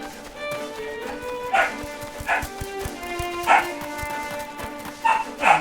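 Several dogs bark in short, loud bursts at irregular intervals behind a steady musical game soundtrack during a streamed Final Fantasy play session.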